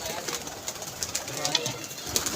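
Pigeons coo softly at close range in repeated throaty calls, with faint background noise and some quiet voices nearby.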